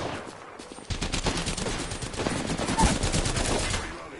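Shotgun blasts in the Apex Legends battle royale game, a dense run of loud gunfire bursts starting abruptly about a second in and continuing through the rest, with no talk over it.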